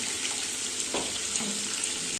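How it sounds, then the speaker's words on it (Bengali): Potatoes and prawns fry in a pan, a short, even hiss of sizzling oil close by with no voices. "এই আলু ভাজা বসিয়ে দিচ্ছি, চিংড়িটা ভাজা বসিয়ে দিচ্ছি।"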